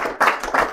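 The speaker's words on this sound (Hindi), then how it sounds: "थोड़ा ताली भी दाओ" An audience at a Hindi evening program in Toowoomba, Australia, claps in two short bursts, close and fairly loud, with no talking over it.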